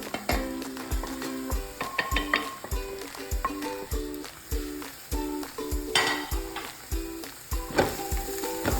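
Coriander, black pepper, turmeric and chilli powders sizzle in a pan for Kerala-style fish mappas, with a spatula stirring in a steady rhythm of scrapes and metallic taps, close up with no talking.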